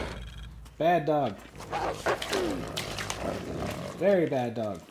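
Dogs growl and bark in Shadow of the Tomb Raider, with two strained, drawn-out snarling cries near the start and end over busy game sounds and a speaking voice.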